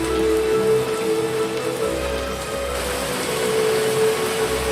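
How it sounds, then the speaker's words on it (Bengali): Heavy rain pours steadily in a cartoon scene, a dense close hiss of drops on surfaces that never lets up across the whole stretch, with no voices. "আর তার উপর এত বৃষ্টি হচ্ছে।"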